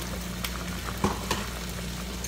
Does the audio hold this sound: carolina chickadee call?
no